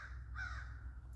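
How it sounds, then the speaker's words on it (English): A single crow gives a short, harsh caw, fairly faint over a low steady background rumble. "you hear the crow caw, caw, caw"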